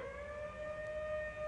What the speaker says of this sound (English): Sirens are blaring.